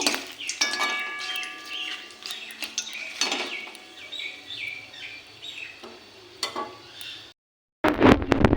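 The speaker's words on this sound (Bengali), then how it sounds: "তেজপাতা পাতাটাও দিয়ে দেবো একটু নাড়াচাড়া করে নেব" A spoon scraping and stirring bay leaf in a cooking pan as chicken is prepared, with repeated clinks and scrapes of metal on the pan and faint bird chirps in the background, followed by a short silence and a burst of louder clatter.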